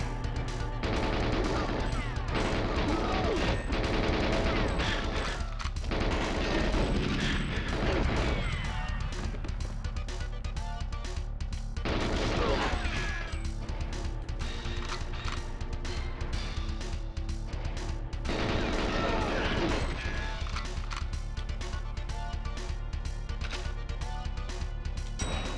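Gunfire in GoldenEye on the Nintendo 64, dense bursts of game shots and crashes repeating through the stretch, with someone talking intermittently over the action.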